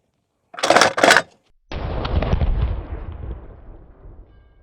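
Two sharp, booming shots from an AK-50 rifle fired outdoors in quick succession, followed after a pause by a loud rumbling blast that slowly decays.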